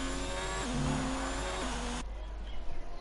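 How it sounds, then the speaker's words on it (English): A race car slides at the Spa circuit in a PS4 racing game, its engine droning with pitch shifts while tires squeal, then the engine tone cuts off abruptly into quieter track noise. "Oh, the car sliding a bit there from Warris Lander."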